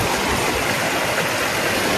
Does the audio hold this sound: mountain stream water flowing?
yes